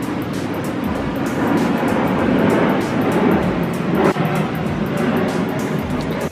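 Aircraft roar near an international airport, a loud broad rumble that swells and holds steady throughout, with no voices over it.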